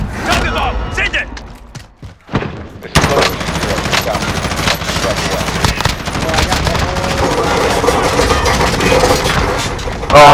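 Gunfire in the video game Call of Duty starts as a few scattered shots, breaks off briefly, then becomes a loud, dense stream of automatic fire with mechanical clatter mixed in, going on without pause until the end.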